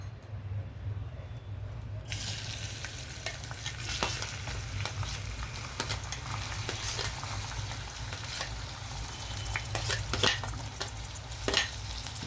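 Onion hits hot oil in a pan for a prawn and ladyfinger curry, the quiet background suddenly bursting into a loud, continuous sizzle with scattered crackles and spatters.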